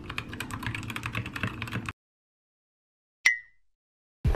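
Rapid clacky typing on a modded keyboard fitted with custom resin keycaps, close and crisp for about two seconds, then silence broken by a short sharp click.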